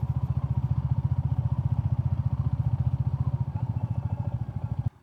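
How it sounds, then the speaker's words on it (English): A Royal Enfield Classic 350 single-cylinder motorcycle engine on a gravel and sandy road, a steady, rapid low thumping pulse close by, even and continuous before cutting off at the end. "I just wanted to test if the Royal Enfield Classic 350 is capable of doing some gravel and sandy roads"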